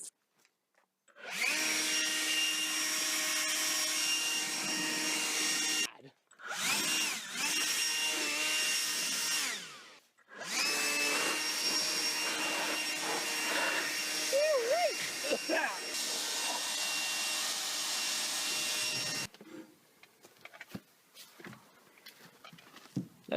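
Long bursts of loud whooshing compressed air blow debris off an old 1962 Dodge car, coming in several sustained blasts separated by short pauses, close up, with someone talking between them.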